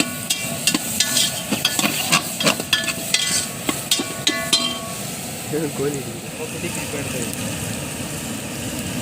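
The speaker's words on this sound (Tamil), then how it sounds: "இது வதங்கட்டும்" Ingredients for chicken biryani sautéing in a pot make a steady sizzle, with repeated metallic clinks of a stirring utensil in the first half before the frying continues alone.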